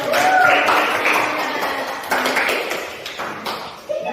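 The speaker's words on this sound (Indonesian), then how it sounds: "tepuk tangan dulu" A classroom of students claps together in a loud, fast burst that gradually thins out, with a few scattered claps trailing at the end and faint voices underneath.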